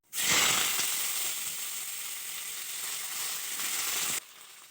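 Flat beans hit hot oil in a wok with a sudden loud sizzle that keeps hissing steadily, then drops off sharply near the end.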